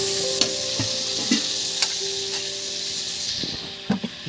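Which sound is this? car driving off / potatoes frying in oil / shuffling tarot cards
potatoes frying in oil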